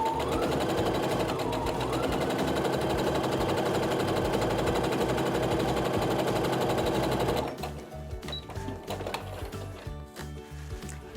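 Sewing machine chain piecing quilt blocks, running in a steady, loud, rapid mechanical stitching whir for about seven seconds, then stopping, leaving quieter fabric handling and small clicks.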